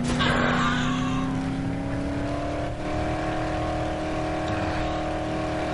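Car engine in the video game Dead Island, a steady droning motor tone that rises slowly in pitch as the vehicle accelerates, continuous and fairly loud with no talking.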